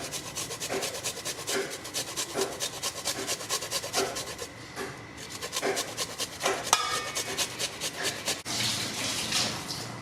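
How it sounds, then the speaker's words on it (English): A big knob of ginger is grated by hand, a rhythmic rasping scrape repeating roughly every second, close and fairly loud, with a few small clinks between strokes. "I've got a big knob of ginger that I'm going to grate in."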